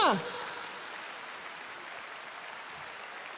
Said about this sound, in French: Je veux vous entendre applaudir pendant 5 secondes.